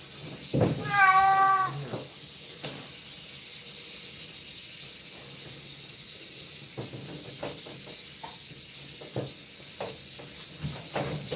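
A cat meows once, loud and close, with a rising harmonic call during a first-time home grooming session with soap and water, followed by faint clicks and handling noises.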